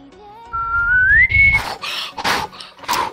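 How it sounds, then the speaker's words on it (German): A person whistles a single rising tone close to the mic, sliding steadily upward for about a second and a half, followed by short bursts of noisy clatter and voices during a Minecraft survival games session. "Er pfeift like a Pfeife."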